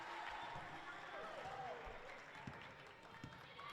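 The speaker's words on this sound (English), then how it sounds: "Crowd calling for a travel." Spectators at a youth boys' championship basketball game shout and murmur in a gym, a broad crowd roar with sneaker squeaks and thumps of play, a commentator's voice faintly audible amid the noise.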